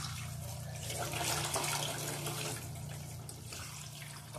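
Tap water runs continuously over a tilapia being cleaned, a steady splashing rush at moderate level with no talking during the few seconds.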